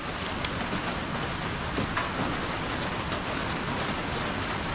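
Light, steady rain falls in the countryside near grazing cattle, a soft continuous hiss of drops with no voices over it.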